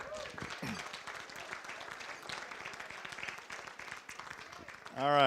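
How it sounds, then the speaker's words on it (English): Audience applause for Deborah at the 2018 Millbrae Man, Woman and Student of the Year Awards: a steady, sustained wash of many hands clapping that stays even throughout, with a voice starting up right at the end. "Let's have another round of applause for Deborah."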